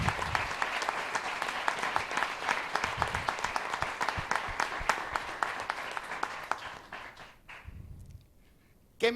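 Audience applause for the collaborators at an Impact Days 2026 event in Mexico, dense steady clapping from a large crowd for about seven seconds, then fading out to near quiet.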